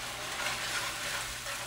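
Vanilla and rum being stirred into a bread pudding mixture for smoked bananas Foster, a soft continuous wet swishing and scraping close by, with no voices.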